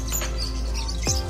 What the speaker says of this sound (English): we got 4 birds eating out of our kids' hands.